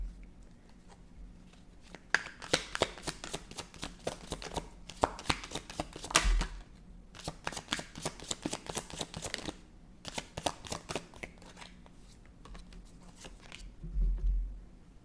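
Tarot cards are shuffled and drawn in repeated quick riffling bursts with brief pauses between them, close and fairly loud, with a couple of soft taps as cards are laid down and no speech.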